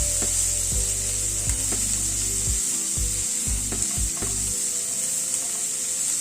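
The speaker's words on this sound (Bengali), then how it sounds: "পেঁয়াজটাকে দিয়ে পেঁয়াজটা একটু ভেজে নিচ্ছি" Chopped onion sizzles steadily in hot oil in a pan, a loud continuous hiss broken by several scraping stirs and knocks of a spatula, with no voices.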